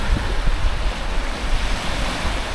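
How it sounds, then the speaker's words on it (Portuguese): Wind-driven waves churning on the lake at Três Marias, a steady loud rush of water and gusting wind noise with no clear breaks, close to the microphone. "As ondas estão muito altas aqui, quando venta é sempre assim, muito perigoso."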